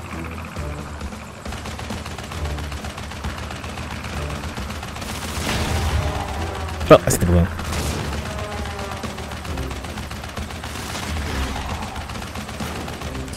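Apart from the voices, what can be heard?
shooting at plane in video game Crash Bandicoot 3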